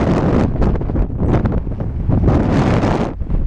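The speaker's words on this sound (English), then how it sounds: "Very windy though." Strong wind on a hill in Spain buffets the microphone in a loud, continuous roar with gusty rumbling pulses throughout, no voices heard.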